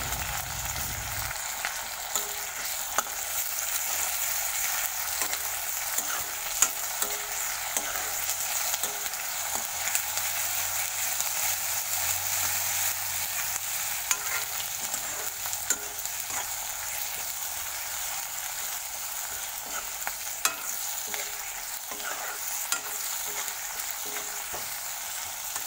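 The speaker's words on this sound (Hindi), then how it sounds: "इसे भी भून लेती हूँ इसी में।" Ground garlic sizzles steadily in a pan over heat, with a spoon stirring now and then and scraping faintly throughout, close by and with no talking.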